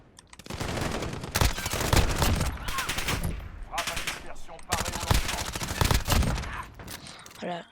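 Automatic weapon fire in Call of Duty: Modern Warfare (2019), with long sustained bursts of rapid gunshots separated by brief pauses, loud and close, with no talk over it.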